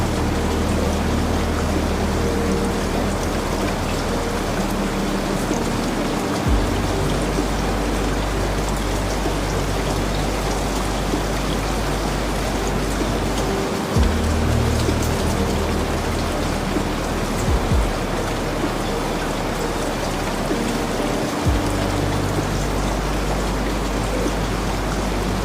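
Steady mountain rain on a Rocky Mountaineer train moving through the Canadian Rockies, an even wash of drops with a low, constant rumble beneath that shifts slightly a few times.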